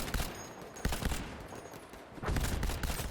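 Rapid gunfire from a Polish Karabin 1938M rifle in the video game Battlefield V, loud bursts of fast shots that stop and start, with dense clusters at the opening and again near the end.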